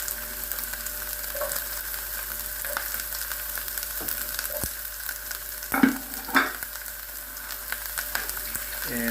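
Carrots and other vegetables stir-fry in a pan with a constant light sizzle, punctuated by scattered scrapes and a couple of louder clanks from tossing and stirring.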